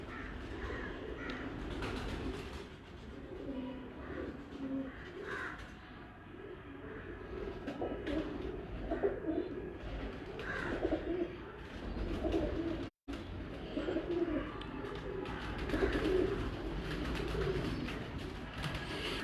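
Breeder pigeons of the Lal Pari type in a loft in Kasur, cooing and fluttering in a dense, continuous flock murmur at close range, with occasional crow-like caws mixed in.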